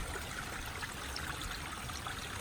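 A spring at a campsite along a hiking trail, water flowing with a soft, steady trickling babble, faint and continuous with no voices.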